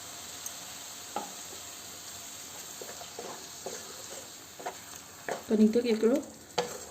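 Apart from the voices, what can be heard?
frying tomatoes in masala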